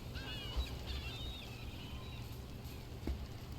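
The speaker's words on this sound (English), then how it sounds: "Hi, birds." Birds honking in Dragon Age: The Veilguard, two short honks about two and a half seconds apart over a steady game ambience, with faint higher calls drifting in the background.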